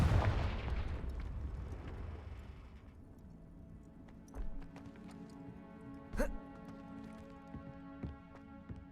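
A Confringo blasting spell fires in the Hogwarts Legacy video game, opening with a sharp explosive blast that fades into quieter game ambience with a few scattered impact thuds.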